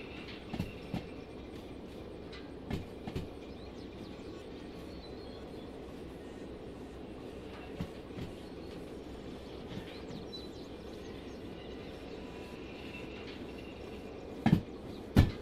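Steady train rumble from the Derail Valley simulator game, a continuous low rolling drone with faint rail clatter and a few brief knocks, ending with two sharper thumps near the close; no talk.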